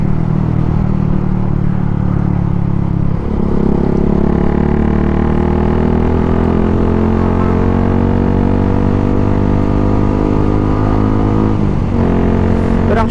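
A Suzuki Gixxer 155fi motorcycle with an Akrapovic full system exhaust runs loud and close, its engine note rising steadily as it revs to high RPM, then dipping briefly before climbing again.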